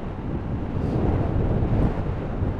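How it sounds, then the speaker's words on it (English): Wind rushes steadily past a rider on a motorcycle, a dense, loud buffeting roar that fills the whole moment with no breaks and no talk over it. "You can actually feel it there, the wind going over your head."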